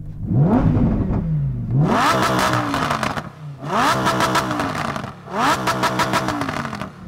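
A Lamborghini Huracan V10 engine revs sharply several times, each burst climbing quickly to a high-pitched wail before dropping off, loud and close.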